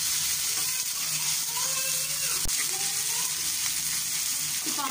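Onions and green chillies sautéing in a pan for poori kilangu, a steady close sizzle and fry with occasional stirring scrapes and a single sharp clink.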